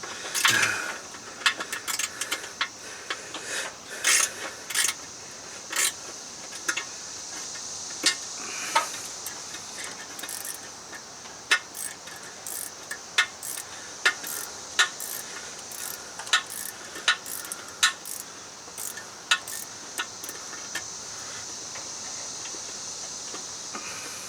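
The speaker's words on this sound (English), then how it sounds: "Yes, I'm using a wrench, but these are high valve covers." A wrench working the valve cover studs on a 1978 GMC engine during a rebuild, with repeated sharp metallic clicks and ratcheting taps at irregular intervals over quiet room noise and no talking.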